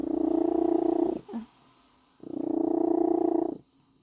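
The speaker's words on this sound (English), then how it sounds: "he's happy and purring as soon as you enter the room" A cat purrs loudly and very close, giving two long, steady rumbling purr cycles with a short quiet gap and a small sound between them.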